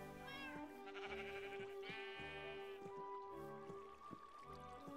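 Sheep in the Minecraft video game on Nintendo Switch give several nasal bleats over a steady layer of background game music, loud and close, with no talking.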